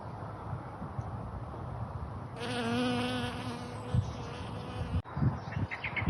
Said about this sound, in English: Here's a honeybee working away.